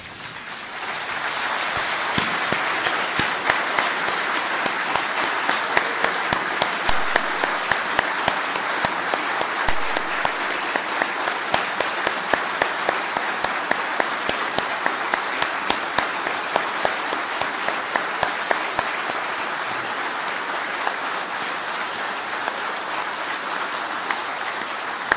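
A standing ovation in the two chambers of the Gabonese parliament, heard as dense, sustained applause from a large crowd filling the hall, steady and loud throughout, with a few sharper individual claps standing out.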